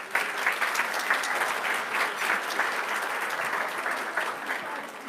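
An audience at an awards luncheon claps steadily, a dense, even wash of many hands, moderately close, with no voices over it.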